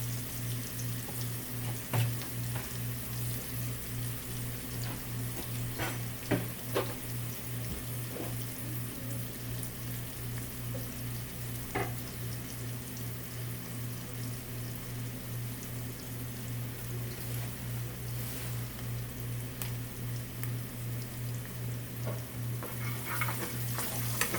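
A cheese steak filling bubbling in a pan gives a steady, low sizzle with occasional faint ticks and stirs, alongside a constant mechanical hum, continuous and without speech.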